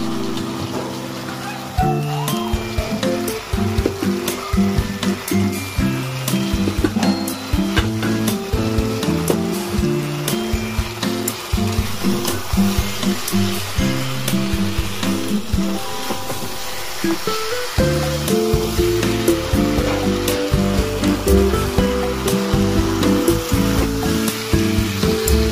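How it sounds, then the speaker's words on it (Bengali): Fish sautéing in a pan for a fish curry, a steady loud sizzle with repeated scraping and stirring strokes of a spatula throughout, no voices. "এখন মাছ দিয়ে ভালো করে কষিয়ে নেব"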